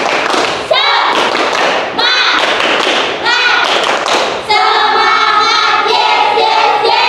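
Students perform the tepuk semangat spirit clap, loud group claps and thumps in a quick rhythmic pattern with voices chanting along, the sound dense and close throughout.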